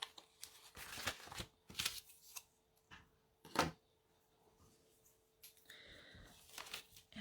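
Scissors cut through paper card in several short, crisp snips and rustles, separated by quiet pauses, close and clear.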